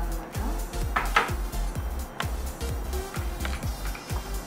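A spoon scraping and clinking against a bowl while adding yogurt to a coffee face mask, with rapid repeated metallic taps and scrapes in a steady, busy rhythm, close and fairly loud.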